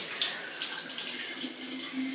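Spring water flows steadily from the famous centuries-old spring at Apikia village on Andros, a soft continuous splashing and trickling heard close up and fairly quiet.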